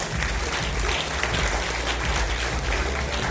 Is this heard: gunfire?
no